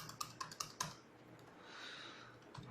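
A file name being typed on a computer keyboard while saving an HTML document: a short burst of about five crisp, close keystrokes in the first second, then quiet room tone.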